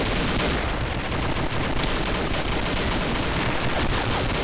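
Rapid rifle fire from the video game Combat Arms, a dense, sustained burst of shots running steadily and loudly throughout with no pauses and no talking.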